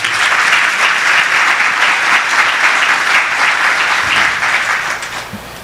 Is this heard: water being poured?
no